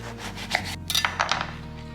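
A knife slices through eggplant, held slightly above a cutting board, giving a few quick, close scraping cuts and soft taps in a short burst.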